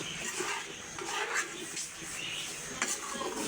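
A spoon scrapes and clinks against a pot while aloo gobi gosht curry, a potato, cauliflower and meat dish, is stirred, a soft continuous churning with faint metallic taps and a light sizzle.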